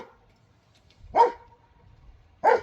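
A pet dog outside by a greenhouse gives two sharp, close barks about a second apart, with quiet background between them.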